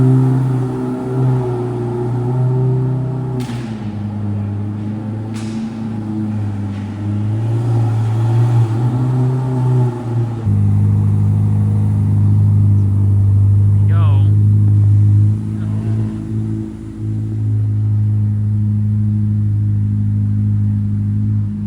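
A deep supercar engine rumbles steadily nearby, idling and creeping forward into a garage with a few brief clicks, then settling into a low hum.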